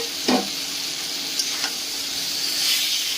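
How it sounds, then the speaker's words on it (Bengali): Slit green chilies sizzle in a pan with potatoes and spices, a continuous close hiss with a quick scraping stir near the start and lighter clinks after. "এবারে দিয়ে দিচ্ছি চিড়ে রাখা কাঁচা লঙ্কা।"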